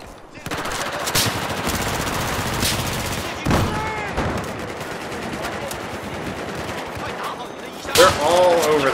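Automatic gunfire in Battlefield 4, a Domination match, with sustained rapid bursts running nearly the whole time, a few louder sharp shots standing out, and voices talking faintly underneath.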